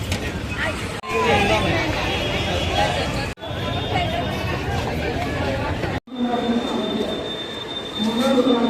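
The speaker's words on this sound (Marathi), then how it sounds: "दादर ट्रेन लागली अरे" Local train arriving at Virar station, a loud, close rumble of wheels and carriages with squealing, steady throughout, under a babble of crowd voices.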